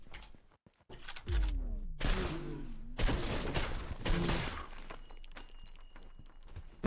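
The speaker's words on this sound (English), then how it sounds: "Let's try the assault rifle real quick." Gunfire from an assault rifle in the game Suit for Hire, a few loud, sharp bursts of shots with crashing impacts, heard close with a low voice speaking briefly underneath.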